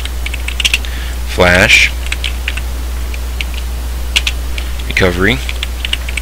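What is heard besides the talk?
typing a fastboot command on a computer keyboard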